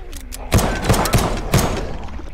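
A turret in the video game The Pit Infinity fires several punchy, booming bursts in quick succession over a steady background hum.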